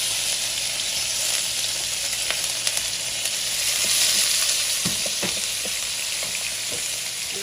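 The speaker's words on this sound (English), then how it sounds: "So I'm adding some oil to my pan, and I'm going to start with the shrimp" Shrimp stir-frying in hot oil in a pan for spicy lo mein, a dense continuous sizzle with scattered crackles and pops, fairly close and loud, no talking.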